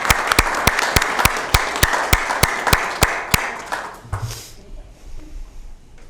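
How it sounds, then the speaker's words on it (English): Audience members at a county meeting clap together in a steady, even rhythm for about four seconds, then the applause breaks up and fades into quiet room noise. "Hey, clap."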